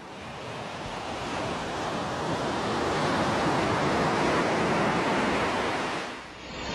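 Ocean waves breaking on a seashore roar as a loud, continuous wash of surf with wind noise across the microphone, swelling steadily before easing briefly near the end.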